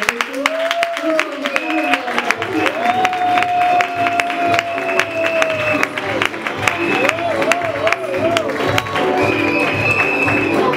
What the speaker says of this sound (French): Applaudissez très fort l'entrée en scène du premier citoyen